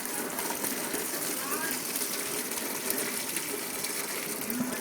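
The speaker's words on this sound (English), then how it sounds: "Carefully pour them out into a strainer, because you want to strain off all the water." Blueberries and their hot cooking water are poured into a strainer, producing a steady, fairly faint gushing, splashing rush of liquid that runs without a break.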